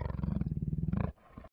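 A tiger roars from a nature documentary playing on a OnePlus TV U1S, a deep rumbling roar sustained for about a second before cutting off into quieter room sound.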